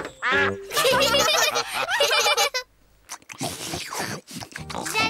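Rapid, harsh quacking bursts from a cartoon duck at a picnic, loud and close, broken by a short pause before more nasal squawks.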